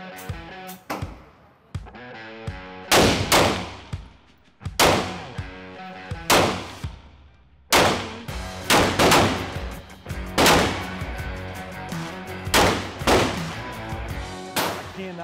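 A 9mm XD pistol with a 4.5-inch barrel fires a long series of loud, sharp gunshots, most of them spaced about a second apart, with ringing echo trailing between them.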